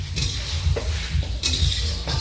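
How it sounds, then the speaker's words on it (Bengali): Fish frying in a pan over a wood fire in a home kitchen, with a steady low crackling sizzle throughout and occasional light clinks of a utensil stirring against the pan. "আর ঘরে কাঠে মাছ ভাজা হচ্ছে"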